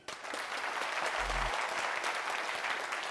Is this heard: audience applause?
yes